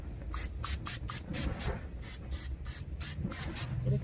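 Cooking spray hisses onto a grill tray in a string of short, close bursts, about a dozen quick pulses in a steady rhythm.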